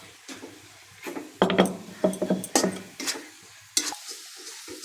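Roasted grated coconut being stirred with ground nuts in a pan for coconut laddu, a series of close scraping and clattering strokes in irregular bursts with quiet pauses between them.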